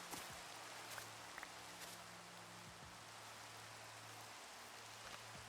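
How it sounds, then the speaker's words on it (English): Steady, soft hiss of rain falling in a Minecraft-style multiplayer video game throughout, with a low hum and a few faint taps and thuds underneath; no talking. "I hate the rain in the game."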